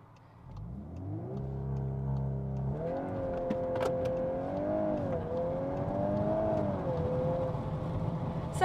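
A VW Mark 8 Golf R with launch control holds a steady revving engine note, then launches and accelerates hard, the engine pitch climbing and shifting through gears, loud and close with no talking.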